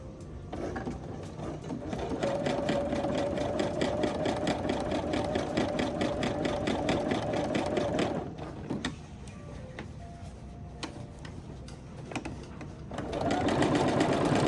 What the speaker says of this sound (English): Press the seam allowance upward toward the crown and top stitch to reinforce.